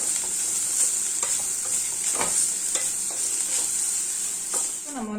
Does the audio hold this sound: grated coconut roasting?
yes